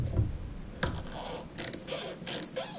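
A 13 mm wrench on the bleeder screw of a Duramax fuel filter head: a series of short ratcheting clicks and metallic turns up close, irregular bursts spaced across a few seconds.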